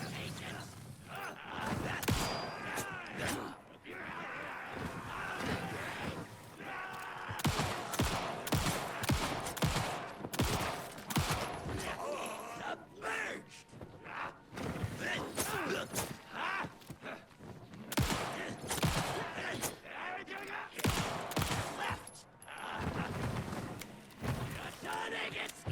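Gunfire from the survival horror game Alan Wake II cracks out in many sharp bursts across a long stretch, mixed with footsteps and creaking over a steady ambient bed.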